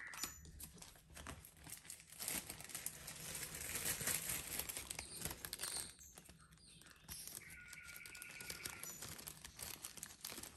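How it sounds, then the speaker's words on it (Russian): A plastic bag pulled over a grafted plant, crinkling and rustling in close irregular bursts that continue throughout, fairly quiet with no talk. "Сейчас оденем с вами пакет."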